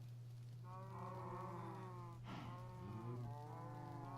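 A Minecraft cow gives a long, clear moo followed by a second lowing call, set over a steady low in-game hum with no talk.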